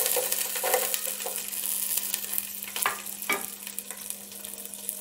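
Garlic frying in hot coconut oil in a pan, a steady close sizzle with a few scraping stirs and light clinks of the utensil over five seconds, and no one talking.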